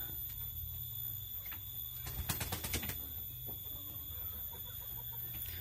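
Pelung chickens cluck in a short burst of rapid, sharp calls partway through, set against a quiet background with a faint steady hum.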